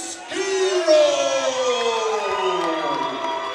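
Crowd at a CFFC 11 mixed martial arts event cheering and whooping loudly for fighter Dante Schiro after his ring introduction, a sustained roar with rising yells throughout.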